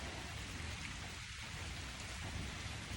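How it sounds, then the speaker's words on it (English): Steady rain pours at night around a solo campsite, a dense, even hiss with no break and a faint low rumble beneath, with no voices. "So it's currently about like 4 in the morning, and it started raining."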